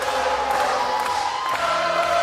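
A large crowd at a PBA women's bowling match makes a steady, sustained roar of cheering and chanting that fills the whole moment without a break.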